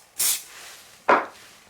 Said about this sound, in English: I'm going to spray the back of my paper with some glue dry.